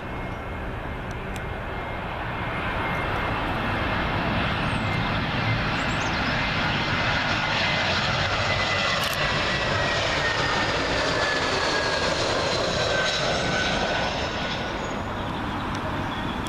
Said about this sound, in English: British Airways A320 in from our good friends at Manchester.